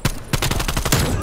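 Rapid bursts of automatic gunfire from a gun in a video game, several volleys fired back to back at close range, loud and dense with barely a pause between them.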